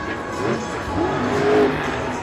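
A toy monster truck makes a loud, close, steady motor-like drone with short rising whine sounds over a noisy background.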